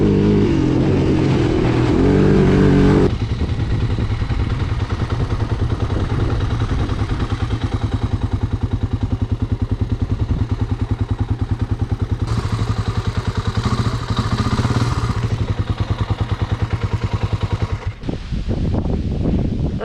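An old three-wheeler ATV engine runs steadily while riding Wisconsin trails, a loud, continuous buzzing drone with rattling clatter and brief revving toward the end.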